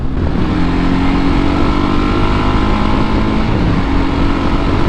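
Kawasaki KLR 650 single-cylinder motorcycle on a test ride, a steady, loud engine drone with wind rush filling the whole stretch, no talking over it.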